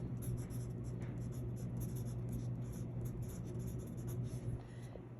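A pen scratches steadily across a paper check, writing out the dollar amount in one continuous, close, even stroke sound with no talking.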